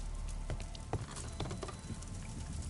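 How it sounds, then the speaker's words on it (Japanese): Rain dripping through a leaking roof in an old house in a Sherlock Holmes mystery game, a soft steady patter of drops with scattered sharper individual drips, fairly quiet and close, no voices. "雨漏りか。"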